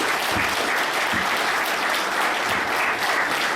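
A crowd claps steadily and loudly, sustained applause filling the whole stretch with no pauses.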